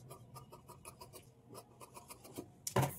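Scissors cutting blouse lining cloth, a quick series of soft rasping snips in a steady rhythm, close and quiet, ending in a sharper louder clack.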